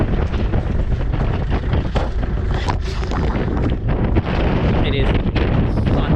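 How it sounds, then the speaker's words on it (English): Strong wind on a windy day in Cornwall buffets the microphone in loud, continuous roaring gusts that blot out all other sound. "It is such a windy day."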